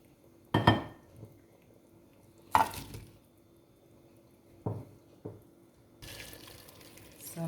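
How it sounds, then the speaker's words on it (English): Water splashes and pours into a pot of mutton stew with vegetables, in a few short bursts with a longer stream near the end, close by, over faint kitchen clatter. "So I'm going to add some water."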